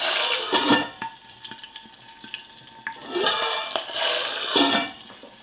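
Green chilli and ginger frying in a hot pan with asafoetida, a steady sizzle swelling in bursts as the spices are stirred, with occasional scrapes and clinks of a utensil against the pan.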